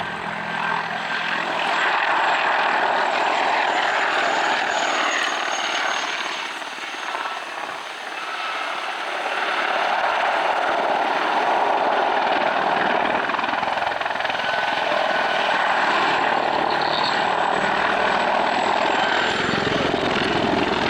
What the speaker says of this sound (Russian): Машины семейства Ми-28 серийно выпускаются на предприятии Росвертол холдинга «Вертолеты России».